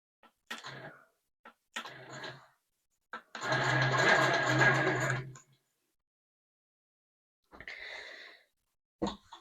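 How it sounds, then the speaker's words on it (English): A home sewing machine runs in short bursts for tacking stitches with the bobbin thread brought up while making a pillow sham; one longer steady whir sits between brief clicks and short runs, close and otherwise quiet. "bring up my thread, my bobbin thread. And take a few tacking stitches"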